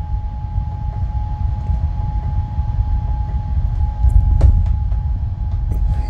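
An Arctic Air Pure Chill personal air conditioner fan runs with a steady, fairly loud broadband whir and a faint constant tone, with a few soft clicks near the end.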